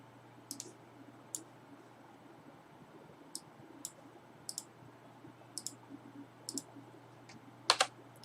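Sharp, isolated mouse clicks at irregular intervals, close and crisp over a faint steady hum, with a quick double click near the end, no talking.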